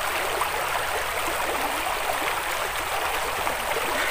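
A river stream flowing at a confluence where two rivers meet, a steady, close rushing and gurgling that runs continuously without pauses or voices.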